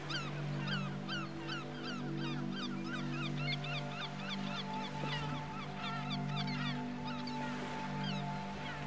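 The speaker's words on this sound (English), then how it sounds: "And in the distance, you can hear the song of the birds." Geese and other fowl honk and call repeatedly in a steady overlapping chorus, with repeated chirping calls over a constant low hum, by the sea.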